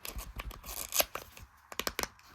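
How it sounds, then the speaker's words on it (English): Plastic wrapping is torn and peeled off a Sanrio My Melody item in quick, close crinkling rips and scratches, a dense burst followed by a few sharp separate tears. "Let's get my nails in there. Remove the plastic."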